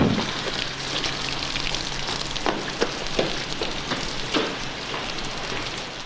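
Rain pours down in a scene from the film Days of Being Wild, a dense steady patter with scattered louder drops and splashes, fairly close and with no talk.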